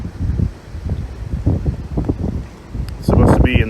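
Cold wind blowing outdoors by a stream in freezing Illinois weather, with rough, gusty rumbles buffeting the microphone that grow louder toward the end.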